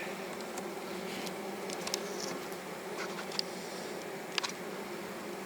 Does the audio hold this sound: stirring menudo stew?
no